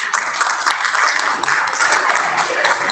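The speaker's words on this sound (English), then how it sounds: "So another big round of applause for our January students" An audience at a school board meeting applauding students, dense steady clapping from many hands for a few seconds, fairly loud and close.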